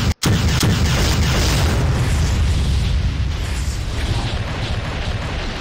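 A heavy video-game explosion erupts at the start with a sharp burst, then a loud, broad rumbling roar sustains for several seconds with no talk.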